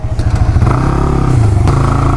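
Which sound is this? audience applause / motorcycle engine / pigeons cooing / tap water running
motorcycle engine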